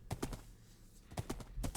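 Horse hooves clip-clop in the Minecraft video game, a quick run of hollow knocks, then a pause, then another rhythmic burst of steps, fairly quiet.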